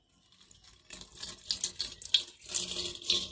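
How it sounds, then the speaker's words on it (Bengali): Water pours and splashes while a Gopal deity idol is bathed, a close running trickle that starts softly and grows into a steady splashing stream, with no voices. "দেখো আমার গোপাল এখন স্নান করবে"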